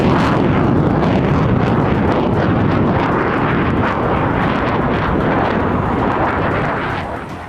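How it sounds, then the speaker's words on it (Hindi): Russian Su-34 fighter jets on a military war exercise make a loud, continuous roar that fills the air and fades slightly at the end, with no voices. "जमीन से लेकर आसमां तक फाइटर जेट का जंगी शोर है।"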